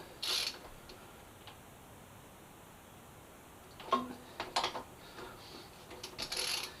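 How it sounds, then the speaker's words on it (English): Ratchet tightening the brake caliper bolts on a crashed Yamaha FZ6R motorcycle under rebuild: a few quiet clicking turns come late in a faint, nearly silent room, with no talk. "we're going to tighten our caliper bolts as well"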